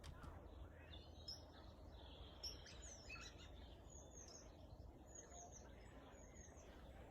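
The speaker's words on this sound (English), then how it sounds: "Her recording of birdsong, and I think a slight hint of river in there as well" Faint birdsong of scattered chirps and twittering calls over a soft, continuous wash of background noise that may be a distant river, quiet and steady throughout.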